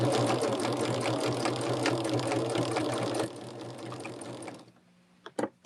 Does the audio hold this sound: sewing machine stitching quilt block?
yes